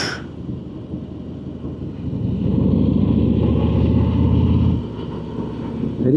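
Harley-Davidson Ultra Limited touring motorcycle riding at the ABR Festival in the UK, a steady low engine rumble with wind noise that swells louder midway, then eases back.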